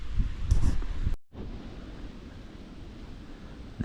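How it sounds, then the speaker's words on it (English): Strong wind gusting through woods in West Virginia, a broad steady rushing noise with rustling, loud at first and briefly cut off before the roar continues at a more even level. "Kind of windy today. Actually very windy."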